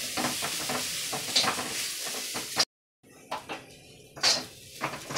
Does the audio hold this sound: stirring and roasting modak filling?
yes